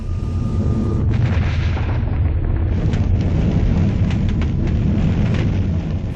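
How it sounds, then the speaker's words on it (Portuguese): A deep, heavy rumble of a chemical plant explosion, booming low and sustained, with crackling debris and rolling noise continuing for several seconds. "30 segundos depois, ocorre a explosão."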